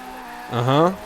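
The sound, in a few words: Fiat 131 Abarth engine drifting, video game Forza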